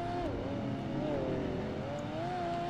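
Race cars in Project Gotham Racing 2 on the Edinburgh track, a continuous engine whine that rises and dips in pitch as the car accelerates and shifts, loud and steady throughout.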